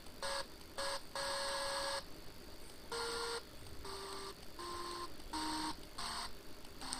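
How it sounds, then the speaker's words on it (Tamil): A synthesized effect from an FL Studio 3X OSC plugin plays as a run of bright electronic beeping tones, each burst stopping and starting in turn, with some notes stepping lower in pitch over a faint noise bed and no speech. "அதாவது ரேடியோவில் வர ஒரு இரைச்சல் சத்தம் மாதிரி வருது"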